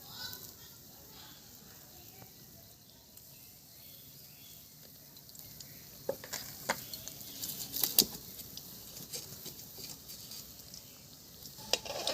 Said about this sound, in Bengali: খুব মিডিয়াম গরমেই আমি ফিঙ্গারগুলো দিয়ে দিচ্ছি